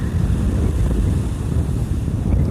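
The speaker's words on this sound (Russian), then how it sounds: "Сильно волнуется море." Rough sea whipped by strong wind, a steady roaring wash of waves and buffeting gusts striking the microphone, loud and continuous with no voices.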